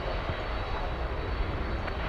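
An airliner departing from a DFW Airport runway produces a continuous, moderately loud engine roar that stays steady over the short stretch, with no speech.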